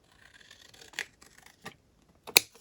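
Scissors trim a piece of paper in a few quick, crisp snips spaced out over a couple of seconds, close and fairly quiet, with the last cut the sharpest.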